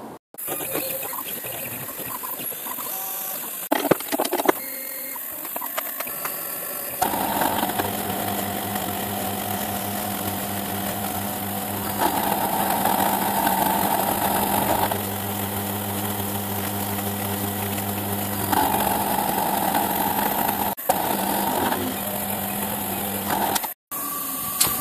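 A machine cutting a scrap nylon block, the cut not going cleanly, gives a steady mechanical drone with sustained tonal whine that shifts between a few levels, broken by brief clunks early on and a sharp drop near the end.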